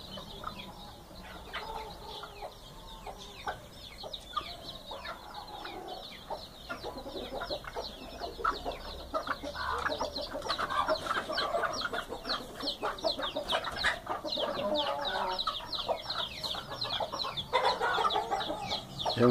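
Hens and chicks clucking and peeping in a backyard, a busy continuous flock chatter of many close birds that grows slightly louder toward the end.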